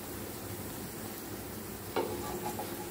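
A chapati brushed with oil on both sides sizzles softly on a hot pan, a quiet steady frying hiss with a light scrape or tap near the end.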